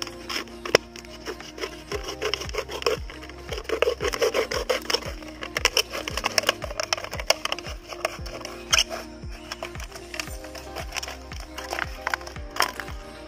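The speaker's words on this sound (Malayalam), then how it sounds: "അത് കഴിഞ്ഞിട്ട് അതിൻ്റെ ബാക്ക് ഭാഗം ഒന്ന് കട്ട് ചെയ്യണം." Hand saw cutting the back of a wooden cricket bat, steady rhythmic rasping strokes about twice a second, close and continuous with no talking.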